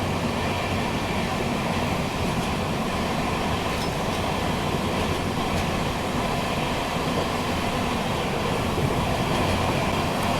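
A Deccan Queen Express train runs on rails between Mumbai and Pune, making a loud, steady rumble with a faint clatter that continues for the whole stretch. No one speaks.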